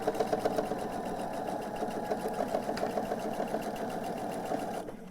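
A sewing machine runs steadily at an even pace as it stitches quilt star blocks together, a close rhythmic mechanical chatter that stops near the end, and no talking.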